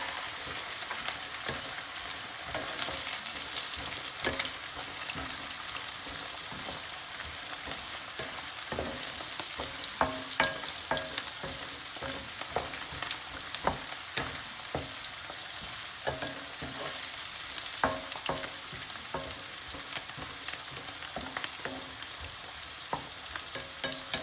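Onions, yellow onions and celery sizzle and fry in a pot for a Congolese chicken dish, a steady crackling hiss with frequent scraping clicks of stirring throughout, fairly close and alone.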